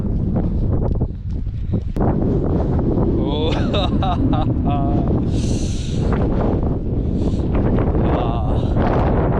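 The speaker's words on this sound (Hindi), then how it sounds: "यार इतनी तेज़ हवा चल रही है कि हल्का हल्का डर लग रहा है" Strong wind buffets the microphone throughout, a constant roar with gusts, while people talk and chant nearby.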